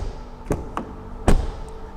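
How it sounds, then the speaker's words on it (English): A 2024 Ford Puma's doors being shut produce a few solid thuds: two lighter knocks followed by one heavier, louder slam, heard up close with no talking. "but listen to the door sounds."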